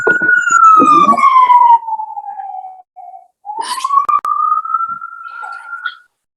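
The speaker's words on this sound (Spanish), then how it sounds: "Está pasando la ambulancia." A loud ambulance siren wails in a long, slow tone that sinks in pitch as it passes, breaks briefly, then rises again before cutting off.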